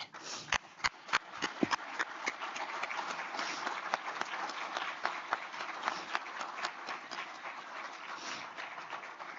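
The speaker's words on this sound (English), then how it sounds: "just stand up and give a round of applause for our veterans today" An audience at a Veterans Day recognition event applauds to honor veterans, with sustained dense clapping that has a few sharper individual claps near the start and carries on steadily for the whole stretch.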